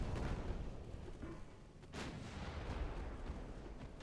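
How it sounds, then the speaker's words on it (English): A thunderous ammunition detonation explodes aboard a warship in the naval combat game Ultimate Admiral: Dreadnoughts, a loud broadband boom that rolls on as a sustained rumble. "Ammo detonation."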